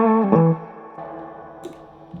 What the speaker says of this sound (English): the blackface setting has that more scooped vintage sound